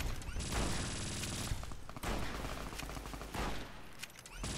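Gunfire in the video game Fallout New Vegas: bursts of rapid shots and fusillades with sharp cracks and impacts, loud and close.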